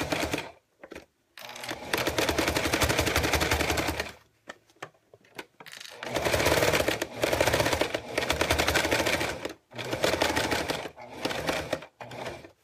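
A sewing machine stitches cork fabric with a quarter-inch foot in rapid, loud mechanical bursts of several seconds each, separated by short pauses and a few isolated clicks, close and without speech.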